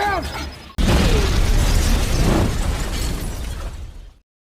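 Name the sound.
explosion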